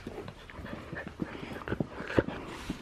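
A dog pants rapidly and close by on a sunny day, with quick rhythmic breaths and a few louder snuffling bursts, with no talk over it.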